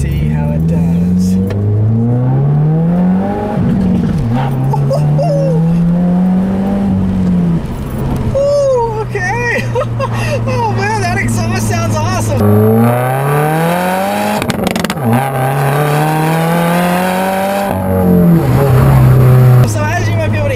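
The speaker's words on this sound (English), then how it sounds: "it is a nameless axle back. That's all it is just an axle back. And it sounds really good. Man, those crackles on the upshift." A 2017 Subaru WRX fitted with a Nameless axle-back exhaust pulls hard up a back road, engine note climbing through several gears and dropping at each upshift. The rasp stays loud and close, with a voice talking over it.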